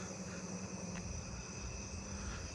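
A narrow-winged tree cricket sings from a tree at night, a faint, steady high trill sitting inside a quiet chorus of other distant insects.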